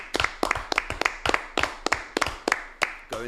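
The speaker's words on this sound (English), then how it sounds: "A round of applause for production." A few people in a studio clap together, sharp distinct handclaps in an uneven rhythm, close and fairly loud, with no talking.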